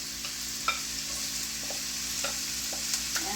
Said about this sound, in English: step back so it doesn't sizzle at me